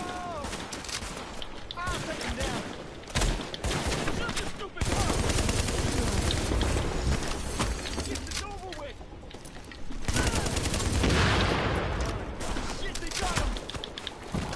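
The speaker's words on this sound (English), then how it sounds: "I'm shooting at my supplies." Rapid gunfire in the shooter game The Division, dense automatic bursts and volleys ringing out in long stretches near and loud, with a voice speaking over the shooting.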